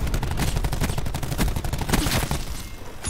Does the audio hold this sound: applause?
no